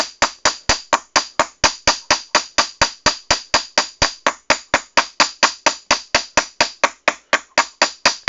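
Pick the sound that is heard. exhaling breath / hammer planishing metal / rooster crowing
hammer planishing metal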